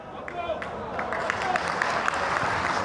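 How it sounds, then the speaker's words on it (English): A thin patter of applause from a small scattering of spectators in the VIP stand at a Libya v Gabon World Cup qualifier, with crowd murmur and voices over it. "Deserved the applause from the smattering of spectators in the VIP stand on this near side"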